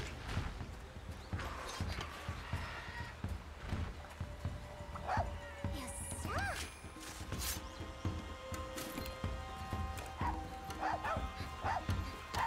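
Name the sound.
Palamute dog barking in Monster Hunter Rise video game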